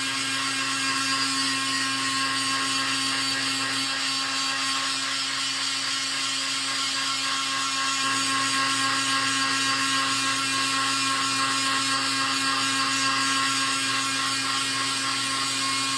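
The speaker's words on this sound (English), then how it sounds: "I'm going to go ahead and I'm going to dry this." A heat tool blows steadily to dry paint on a beach scene painting, giving a constant close whirring whine with a mechanical hum that never changes for the whole stretch.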